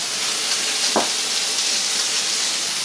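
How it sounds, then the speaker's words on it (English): Butter sizzling in a skillet with steak and potatoes: a steady, loud frying hiss throughout with one brief stir-like scrape, no talking. "Now you want to put in around a 1/4 cup of butter."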